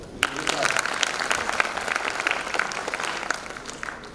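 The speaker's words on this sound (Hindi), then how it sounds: "अरे एलेक्सा पे भी ताली होगी" A live audience at a Hindi talk by a speaker breaks into a burst of clapping, with sharp individual claps and some voices mixed into the applause.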